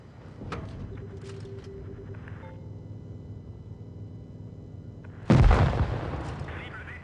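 Heavy tank cannon fire in an online battle game: a low rumbling backdrop with a faint earlier shot, then one big booming blast that rolls away, loud and close.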